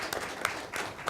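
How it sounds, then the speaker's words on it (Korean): Faint, scattered claps come from the audience at a Korean healthcare policy debate forum. The short burst is quiet and fairly distant. "다시 한 번 더 뜨거운 박수 좀 부탁드리겠습니다"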